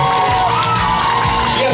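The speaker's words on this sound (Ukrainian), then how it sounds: "Ваші оплески!" Audience at a dance festival concert cheers and whoops loudly, a dense, close burst of crowd noise with shouting voices.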